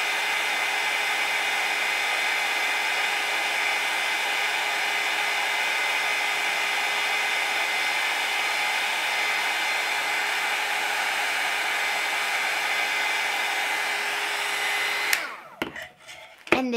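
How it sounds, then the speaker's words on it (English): A hair dryer blows steadily at close range with a loud, constant whirr, then clicks off near the end, followed by a few handling knocks. "If you don't have a heat gun, just use a hairdryer."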